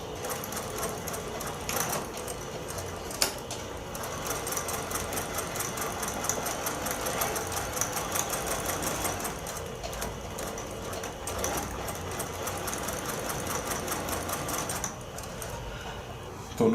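Sewing machine stitching steadily through a quilt block, a continuous rapid mechanical whir with brief pauses, close and moderately loud.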